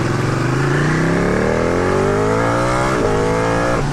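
A Ducati 1299 Panigale motorcycle in traffic revs loudly and close, its engine pitch climbing steadily through one long acceleration, with a brief shift near the end and no talking.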